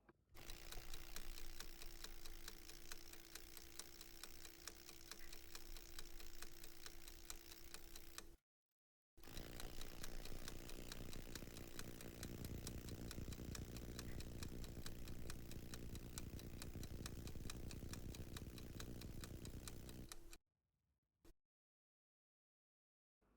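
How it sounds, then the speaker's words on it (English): A Parkside A1 20-volt cordless impact driver with a half-inch anvil hammers steadily in two long, loud, continuous bursts separated by a short pause, then stops with a brief final blip. "the A1 impact driver with a maximum of 180 Newton meters with a 1/2 inch anvil"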